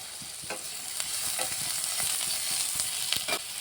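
Cumin, chopped onion and ginger-garlic paste frying in hot mustard oil, giving a bright continuous sizzle with quick, close spoon strokes and light scrapes against the pan.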